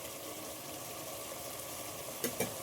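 Masala with biryani powder sizzles steadily in oil for a green-style keema biryani, a soft continuous frying hiss with a couple of brief stirring clicks near the end.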